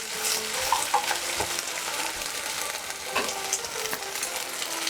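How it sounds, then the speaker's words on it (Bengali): Spices fry slowly over a medium-low flame, meant for a moong dal with fish head, giving a steady, moderate sizzle with a few light stirring clicks and no voices. "মিডিয়াম টু লো ফ্লেমে আস্তে আস্তে মশলাগুলো আমি দিয়ে কষে নেব।"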